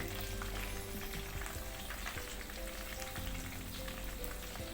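Pork belly coated in a flour mix made without water fries in hot oil with fish sauce, giving a steady, dense sizzle and crackle that continues throughout at moderate volume with no voices.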